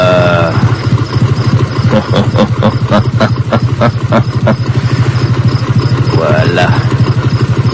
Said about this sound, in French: Je vais avancer un peu avec sa moto